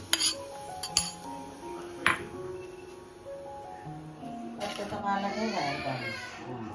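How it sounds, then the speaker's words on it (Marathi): A spoon clinks against a pan as hot tadka tempering is stirred into raw mango and fresh coconut chutney. A few sharp metallic taps come first, then softer scraping and stirring while a voice talks. "आता चटणीमध्ये टाकू, मस्त मिक्स करून घेऊ।"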